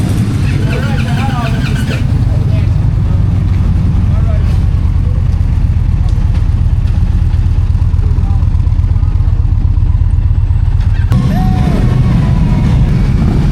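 Around thirty Indian motorcycles ride in a group with a vintage bike leading, a loud continuous low engine rumble and drone that holds steady and close, with a brief shift at the start and another near the end.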